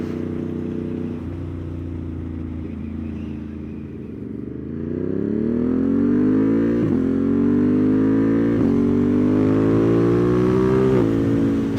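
A 2024 Triumph Street Triple motorcycle engine hums steadily while riding, then climbs in pitch through a long acceleration with brief dips at gear changes, loud and close with no talk.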